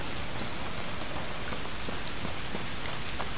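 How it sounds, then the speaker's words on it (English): Steady rain in A Plague Tale: Requiem, a dense continuous hiss of falling drops with scattered sharper droplet ticks, close and even throughout, with no voices. "Rain."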